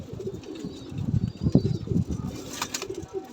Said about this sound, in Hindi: ये देखें जिसामद वाइज ये कितना बड़ा कबूतर है